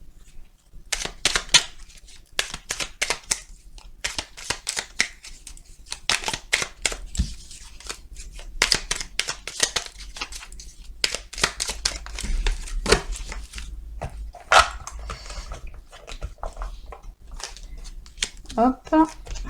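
A tarot-style deck of small cards is shuffled and laid out by hand, giving repeated quick riffles and crisp snapping flicks in irregular bursts, close and fairly loud, with a voice speaking French between them.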